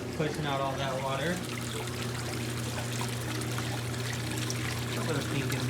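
Water drains steadily from a plumbing system being flushed out after winter, pouring and trickling continuously at close range over a low steady hum, with no pause for the whole stretch.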